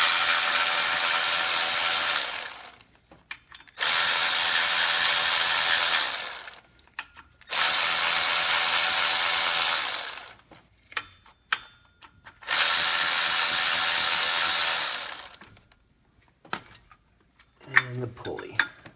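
A ratchet wrench clicks rapidly in four long bursts while removing bolts from a Ford F-150 3.5L Ecoboost engine, with short pauses and faint clanks between runs.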